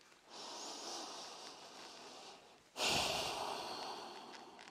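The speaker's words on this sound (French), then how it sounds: "On respire." Slow, soft breaths during a yoga pose, a long quiet inhale followed by a stronger, airy exhale, close and alone.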